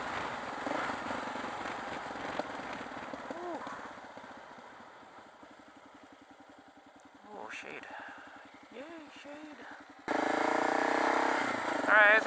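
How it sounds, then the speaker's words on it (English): A KLR650 supermoto motorcycle riding uphill, its single-cylinder engine droning steadily with wind noise, rising and falling with throttle and getting louder near the end, while a rider talks intermittently over it. "This bike handles really well"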